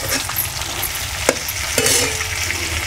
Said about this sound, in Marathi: आपण तेलामध्ये हे परतून घेतलेले आहे